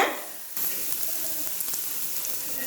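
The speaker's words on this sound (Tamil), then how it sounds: "ஆனியன் நல்லா வதங்கட்டு." Onions frying in a pan with salt, a close, bright crackling sizzle that jumps louder after a brief quieter moment and then holds steady.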